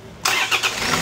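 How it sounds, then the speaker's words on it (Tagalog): A Toyota Fortuner engine that had been cranking without starting catches abruptly and settles into a steady, loud idle right after a brief quiet moment. "Tapos papa-start natin sa kasama natin yung sasakyan."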